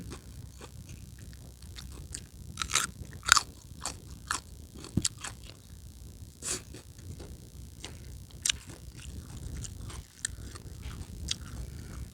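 Crisp crunching bites of spicy Thai rice noodle salad, irregular sharp crunches and chewing close to the mic, with no talk over them.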